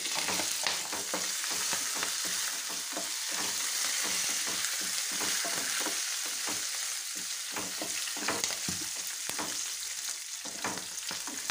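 Curry leaves sizzle and crackle in hot oil in a pan while a ridge gourd peel chutney is being made, a loud, dense frying hiss with stirring scrapes throughout.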